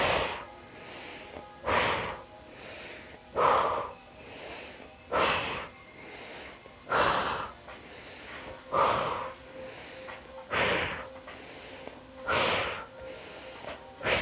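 Rhythmic breaths during a Pilates ab exercise, strong exhales puffing out roughly every second and a half in a steady cycle, close and fairly soft with no talk over them.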